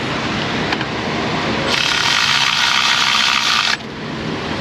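A ratchet wrench tightens a bolt in an auto repair shop with a loud, rapid clicking ratchet run. It holds steady for about two seconds and then stops abruptly against a background of shop hum.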